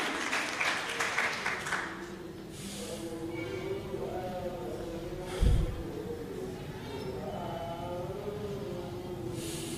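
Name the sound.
congregation applauding loudly for God's glory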